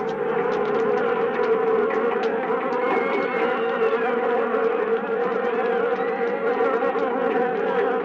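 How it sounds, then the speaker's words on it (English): Dense, continuous buzzing of a large swarm of killer bees, loud and steady throughout, with individual insects whirring past. "a swarm of killer bees attacked in downtown Rio"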